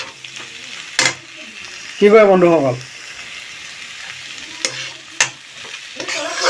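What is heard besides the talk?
stir-frying vegetables, bhaji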